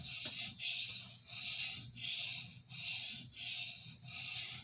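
A paring knife is drawn across a sharpening stone in six even, rhythmic strokes, each a close, gritty rasp followed by a brief pause.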